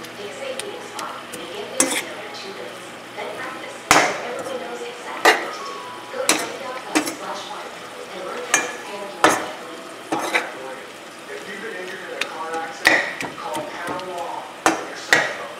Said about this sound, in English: Now into the onions, I'm going to put 3 tablespoons of butter.